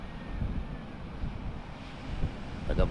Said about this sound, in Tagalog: Dagat namin may simoy na naman